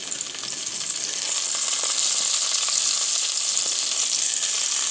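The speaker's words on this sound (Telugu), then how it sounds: "ఇందులోనే ఎండుమిర్చి కూడా వేసి వేయించుకోవాలి" Dried red chillies crackle and sizzle in hot oil, a steady, close frying hiss that grows slightly louder after the first second.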